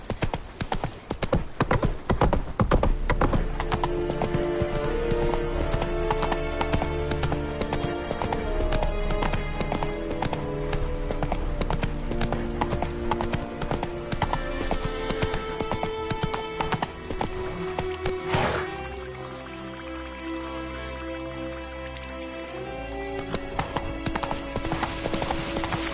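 The horse Roach galloping in the Witcher 3 game, a fast, continuous drumming of hooves close by over layered orchestral music, with a brief whinny-like break partway through.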